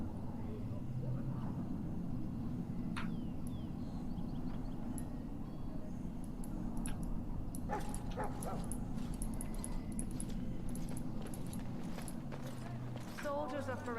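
A dog barks and whimpers in Dragon Age: Origins, with short yips scattered over a low game ambience, clip-clop footsteps and background voices.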